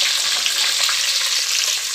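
Curry leaves fry in hot oil for a sambar tempering, giving a loud, steady, bright sizzle that holds close and unbroken throughout.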